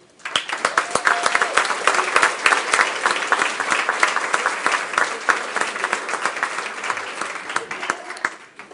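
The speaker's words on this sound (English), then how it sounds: "join me in giving yourselves a round of applause" Audience applause at a public action assembly on housing in Missoula, a dense, steady round of clapping from a crowd that holds strong for the whole stretch with no voices over it.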